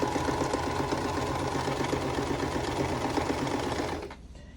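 A sewing machine stitches quilt block pieces together in a fast, steady, close mechanical rattle that stops abruptly just before the end.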